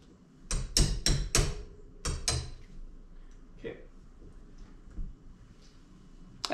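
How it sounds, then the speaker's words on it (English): A hammer strikes a chisel to loosen a Flo Pro 120 lever, first a fast run of four sharp metallic taps, then two more, followed by faint clinks and handling noise in a quiet room. "I'm going to grab my little chisel and hammer"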